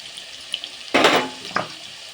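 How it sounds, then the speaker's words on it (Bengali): Potatoes drop into hot oil with tempering spices, setting off one sudden loud sizzle that fades, followed by a smaller crackle a moment later. "একটু নেড়ে আলুগুলো দিয়ে নিচ্ছি। আলুগুলো ভাজবো।"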